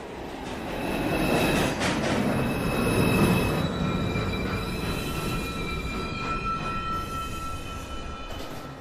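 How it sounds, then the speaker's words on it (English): A New York City subway train, a 2 or shuttle line, pulls into the Lincoln Center station with a loud, sustained metallic wheel squeal over rumbling rail noise, steady and close throughout. "Approaching the station, please stand away from the platform."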